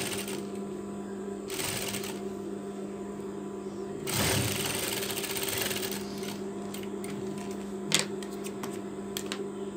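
A sewing machine stitches the shoulder of a half double-breasted Turkish coat, a steady mechanical whir running throughout with brief louder bursts, fairly quiet and close.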